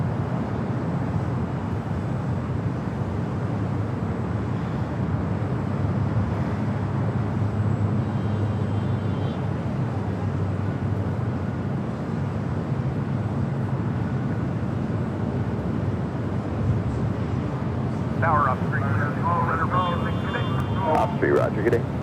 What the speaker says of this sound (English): ITA Flight 621 heading back to Rome.